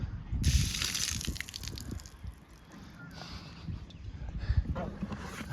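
Water dumped out of wet boots after kayak paddling, gushing and splattering onto the ground in two bursts close by, with light handling noise between them.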